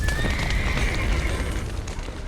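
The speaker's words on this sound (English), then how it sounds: "Horses." Horses in The Witcher 3 neigh loudly close by, a long whinny rising and falling over clip-clopping hooves.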